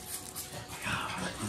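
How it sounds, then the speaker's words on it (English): Several excited dogs whimpering and yipping near a running Aermotor hit-and-miss engine, a continuous restless whine with sharp high yips, fairly close and loud, without speech. "God, the dogs are nuts."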